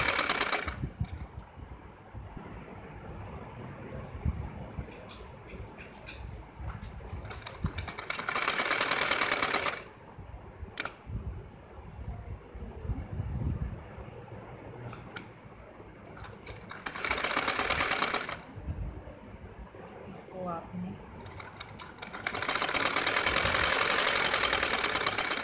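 A sewing machine stitches a gathered sleeve onto a baby's butterfly frock, running in several loud bursts of fast, even whirring separated by quieter pauses with handling noises.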